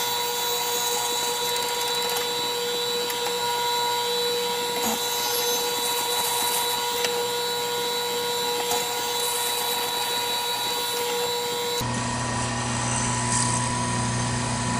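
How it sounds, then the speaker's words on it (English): A drill bores through a pink Alumilite resin pen blank with angelite glitter, making a loud, steady whirring drone that runs unbroken and shifts in tone near the end. "So we will get this drilled out."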